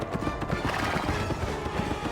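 Horse in the video game Kameo: Elements of Power, rapid clip-clop hoofbeats at a gallop with neighing over the top, loud and continuous, no talk.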